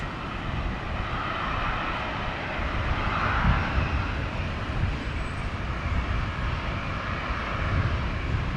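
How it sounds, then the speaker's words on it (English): A continuous, heavy roar of aircraft engines at Brisbane Airport, loud and steady, broad rumbling noise with no gaps. "Hear those engines roaring."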